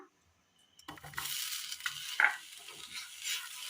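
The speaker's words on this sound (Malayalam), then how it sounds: "ചതച്ചു കൊണ്ടുവന്ന ബീഫ് ഇട്ട് കൊടുക്കാം." Crushed beef drops into a hot pan and starts frying, with a sudden rising sizzle after a moment of silence and a few scraping stirs, all close and without talk.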